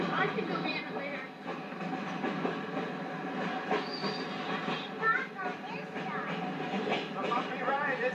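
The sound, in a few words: train ride in a caboose on the Chelatchie Prairie Railroad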